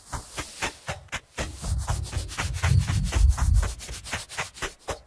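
Noise effect from the Spitfire Albion ONE instrument: a soft, rough hiss that pulses in a steady rhythm, swelling over a low rumble in the middle and thinning out again at the end, with no voices.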